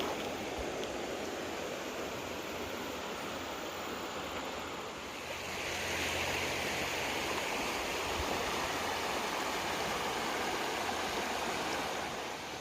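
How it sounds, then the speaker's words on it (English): The Linville River rushing over rocks at a shallow ford in a mountain gorge, a steady, loud broadband roar of flowing water that swells slightly partway through, with no voices. "All right, made it down to the Linville River. This is a ford."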